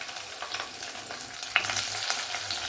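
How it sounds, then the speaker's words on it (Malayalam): Chopped okra (lady's finger) fries in hot oil with mustard seeds and cumin, a soft steady sizzle with occasional light clinks and stirring scrapes. "ഇനി ഇതിനകത്തോട്ട് നമ്മൾ അരിഞ്ഞു വെച്ചിരിക്കുന്ന വെണ്ടയ്ക്ക ഇട്ട് കൊടുക്കാം."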